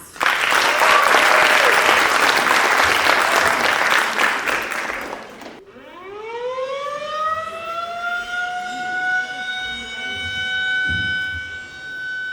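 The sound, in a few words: audience applause for the theater class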